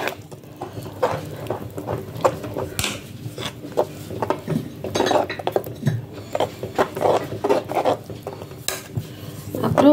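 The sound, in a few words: stirring black urad dal kanji mixture in a pot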